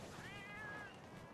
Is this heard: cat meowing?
yes